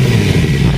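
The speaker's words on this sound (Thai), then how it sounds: "เดี๋ยวขออนุญาตเร่งเครื่องนิดนึงนะครับ" A 650cc motorcycle engine with a deep-toned exhaust revs briefly, a loud, close, throaty burst heard alone.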